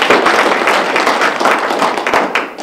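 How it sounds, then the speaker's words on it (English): Audience applause at a political talk on the 2012 NDAA and the law of war, a dense, steady wash of many hands clapping that stays loud for the whole stretch with no voices. "Let's give a big round of applause to both these gentlemen here."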